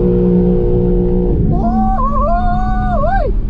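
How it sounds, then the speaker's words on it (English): A BMW M3 Touring's engine blips up from a steady idle into a loud, rising rev that holds high and then drops, recorded up close with no talking. "We're finally getting the first rev on"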